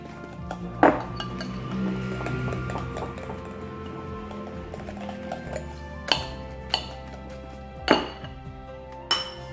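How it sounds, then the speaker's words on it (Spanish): Mixing pumpkin and grated carrot bread batter in a bowl, with repeated clinks of a utensil against the bowl and occasional sharper knocks, close and intermittent, no talking. "Seguimos mezclando."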